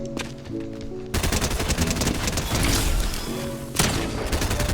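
A submachine gun fires in long rapid bursts in a video game, loud and close, with short pauses between volleys and brief background tones, and no talk.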